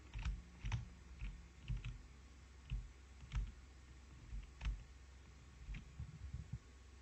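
Computer keyboard keys pressed in an irregular rhythm of soft, close clicks, single and double taps spread over several seconds against a quiet low hum, with no talking.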